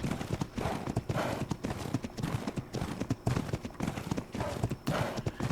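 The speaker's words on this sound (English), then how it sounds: "Ooh, look at these horses." Horses in the video game Ark Survival Evolved, on the Ragnarok map, trot with rapid clip-clop hoofbeats in uneven bursts, fairly close and alone, with no talk over them.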